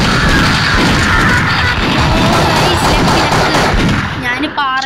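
Bursts of rapid automatic gunfire in the mobile shooting game Mini Militia, dense and loud, filling the whole stretch as a continuous crackling barrage, with a voice partly under it.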